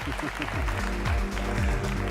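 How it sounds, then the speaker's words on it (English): Studio audience applause at a televised inter-university quiz competition, a continuous wash of many hands clapping, moderately loud and sustained, with a host's voice running over it. "And clap anytime now."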